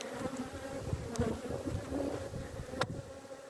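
Honey bees hum in a dense, steady buzz around an opened hive in Ireland, close and continuous, with a few louder passes and no talking.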